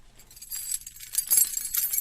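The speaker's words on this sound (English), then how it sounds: "That's the sound of my beer bottle opener on my keychain." A keychain carrying a beer bottle opener jangles close by, a quiet burst of bright metallic clinks and rattles with no talking.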